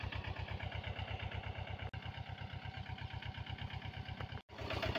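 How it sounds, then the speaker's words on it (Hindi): A Mahindra Jivo 245 DI tractor with a 25 HP two-cylinder diesel engine idles steadily, its even low chugging pulse close and continuous, briefly dipping twice. "जीवो 245 25 HP का ट्रैक्टर है भाई, ये 2 सिलेंडर इंजन के साथ।"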